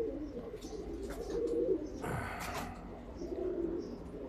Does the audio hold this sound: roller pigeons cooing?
yes